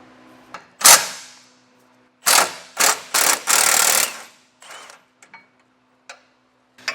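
A wrench works the vertical frame bracket bolts on a car during a hidden front-mount trailer hitch install: several close, sharp bursts of metallic ratcheting separated by short pauses, followed by faint small clicks.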